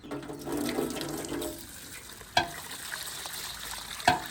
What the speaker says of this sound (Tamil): அடுப்பை மூட்டிட்டு அங்கே போய் அரிசியை கழுவுவோம்